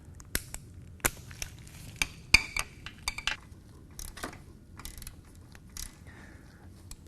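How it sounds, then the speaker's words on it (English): Metallic clicks and clanks of a ratchet with a 3-inch extension and 5/8 inch socket working loose a Harley-Davidson transmission drain plug, a series of sharp, close taps at irregular intervals with quiet gaps between. "take your ratchet and your 3-inch extension and your 5/8 inch socket and remove it"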